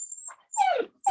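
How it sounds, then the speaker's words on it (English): A pet dog, a female, whimpers for attention indoors in a few short, close, high whines with brief pauses between them, and no talk. "My dog, I think my dog got a question."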